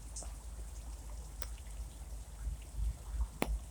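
Light rain falling steadily outdoors near a car during evening weather, a soft continuous patter with a few sharper drops, fairly faint and without talk.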